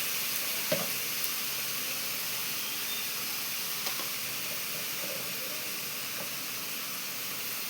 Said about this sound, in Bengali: দিয়ে মশলাটাকে আমি ভালোভাবে কষিয়ে নিচ্ছি।